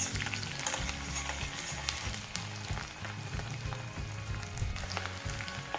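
Halved small onions sizzle and crackle steadily in cold-pressed sesame oil for an anchovy fish curry, a close, dense frying hiss with occasional stirring clatter.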